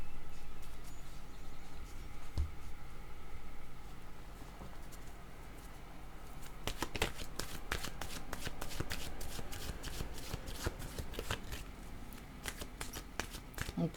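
Oracle cards from an intuitive-soul deck being shuffled by hand, a steady riffling swish that turns into a quick run of sharp, close card snaps in the second half, alone with no talk.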